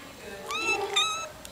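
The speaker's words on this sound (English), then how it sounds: "Did you hear another cat?" Cat meowing twice indoors in a room with other cats, clear rising mews close to the microphone.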